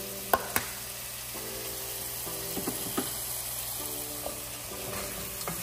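About six whole allspice berries sizzle in a hot pot for a jackfruit rundown sauce. A steady crackling hiss runs throughout, broken by a few sharp clicks and scrapes of stirring.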